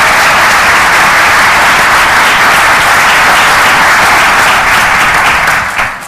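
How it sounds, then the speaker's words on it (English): Conference audience at a business event in Miami breaks into loud, sustained applause, a thick wash of clapping close and full that tapers off at the very end. "for a round of applause for him"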